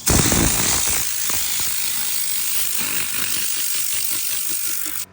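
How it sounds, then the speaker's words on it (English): Tornador air cleaning tool blasting out a car interior during a full professional detail, a loud, steady hissing rush of compressed air with a rapid rattling pulse, running continuously before cutting off abruptly at the end. "I'm just going through with my Tornador."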